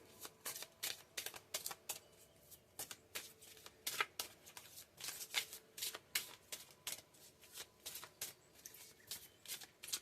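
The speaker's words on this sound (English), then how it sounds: "let's get some oracle cards just to get some clarification" Oracle cards being shuffled by hand, a rapid series of crisp riffling bursts in an irregular rhythm, close and fairly quiet, with no talking.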